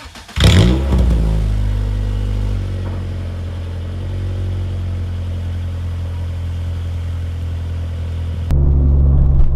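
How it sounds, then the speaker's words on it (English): A 1995 Acura Integra with a VTEC swap cold-starts with a sharp cranking catch, then settles into a loud, steady, slightly uneven idle rumble before the revs step up near the end. "we'll get a cold start and then we will take off"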